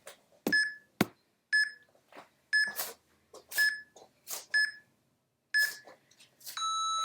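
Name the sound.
workout timer beeping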